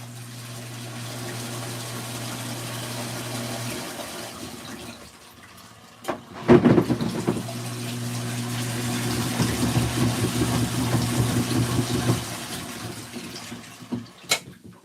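LG ThinQ MEGA Ultimate washer on a deep wash rinse, with water pumping and splashing through the drum under a steady motor hum, swelling louder midway with sloshing surges before easing off.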